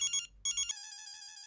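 Phone ringtone for an incoming call in a household scene, two short electronic ring bursts followed by a sustained bright melodic tone, clear and fairly close.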